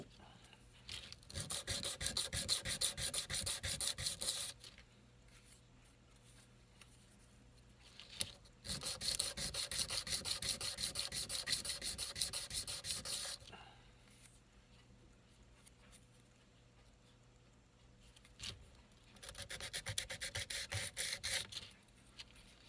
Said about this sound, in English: Just trying to make sure I stay square on my filing.